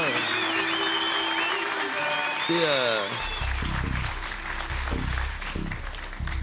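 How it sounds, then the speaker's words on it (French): A studio audience on a French TV game show applauds the contestants. The clapping swells under a bright musical jingle that turns into a thumping beat, with voices talking over it. "en vous applaudissant bien fort parce que vous êtes courageux"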